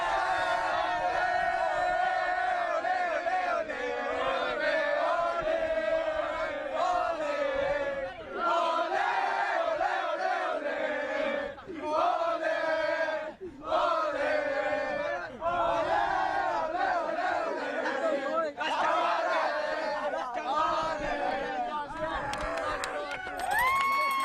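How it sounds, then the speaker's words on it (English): A boys' under-17 youth soccer team celebrates winning a championship final, shouting their victory cheer together: a loud, continuous crowd of young voices yelling and whooping close by for over twenty seconds, with a few brief dips. "let's get around and do your cheer"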